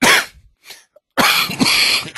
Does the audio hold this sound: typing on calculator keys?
no